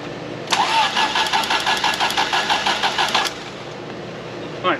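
Fiat X1/9 engine cranking on the starter with the coil wire off, a rapid rhythmic churning for about three seconds, close and clear, then stopping.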